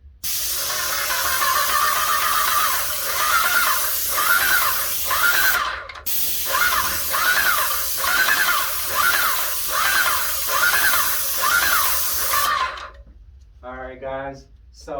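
An airless paint sprayer hisses in loud, steady bursts while spraying the edges, rhythmic pulses of hissing spray repeating in strokes, then stopping as a voice speaks at the end.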